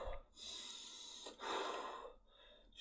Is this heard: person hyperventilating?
yes